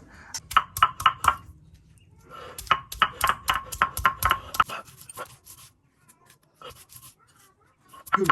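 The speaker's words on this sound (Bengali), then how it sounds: "এই যে আপনার পাটায় পেঁয়াজ রসুন জিরা বাটা হচ্ছে" Onion, garlic and cumin ground on a traditional stone slab with a stone roller, sharp rhythmic scraping and knocking strokes in quick bursts, pausing and resuming, close and fairly loud.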